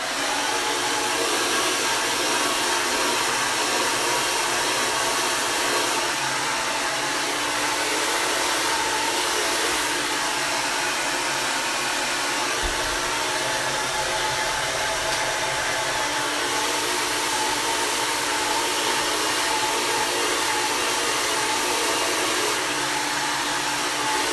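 Hair dryer blowing steadily and loudly as hair is blow-dried with a round brush, its nozzle pressed up to the brush, a constant whooshing roar with slight wavering for over twenty seconds, no speech.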